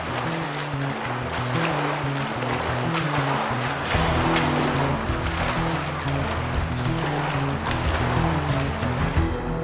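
Swimming strokes churn and splash water in a pool at the US Olympic Training Center, a steady loud wash of sloshing and surging water running throughout with no talk.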